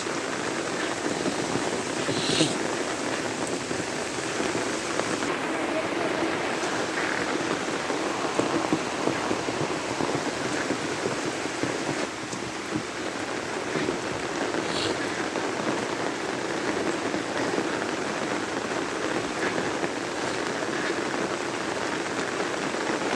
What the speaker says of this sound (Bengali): এখন তো হচ্ছে বৃষ্টি